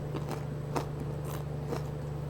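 Someone bites and chews crunchy pizza close up, with a few separate crisp crunches spaced over a couple of seconds. A low steady hum runs underneath and no one talks.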